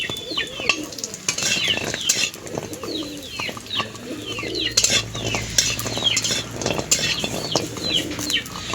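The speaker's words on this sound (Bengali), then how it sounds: "এবার তেলে দিয়ে দিয়েছি বড়িগুলো লাল লাল করে ভেজে নেব।" Lentil dumplings (bori) fry in hot oil with a steady, close sizzle and occasional clinks of a stirring utensil, while birds chirp faintly in the background.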